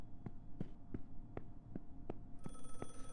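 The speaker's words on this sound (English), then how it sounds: "I hear the phone." In The Last Case of John Morley video game, a telephone rings in a quick, regular series of about eight short, evenly spaced pulses, fairly quiet against a low background hum.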